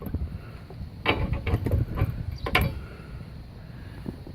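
A small nut is unthreaded by hand during installation of a trailer hitch on a 2010 Chevrolet Malibu, giving a few quiet metallic clicks and scrapes clustered in the middle, close by against faint background noise.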